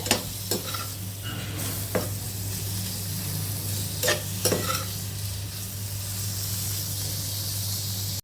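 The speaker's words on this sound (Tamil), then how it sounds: "இப்போ இந்த பன்னீரை இந்த மசாலாவில் நல்லா ஃப்ரை பண்ணிக்கிங்க" Paneer cubes frying and being stirred in masala in a pan for restaurant-style paneer butter masala, giving a steady close sizzle with occasional scraping stir strokes and a constant low hum beneath.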